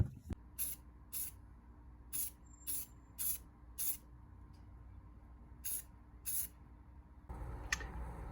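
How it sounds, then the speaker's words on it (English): Short repeated hissing bursts of an aerosol spray can painting PVC pipe, about ten sprays in an irregular rhythm, close and loud, separated by brief pauses. "I'm gonna spray the PVC pipe"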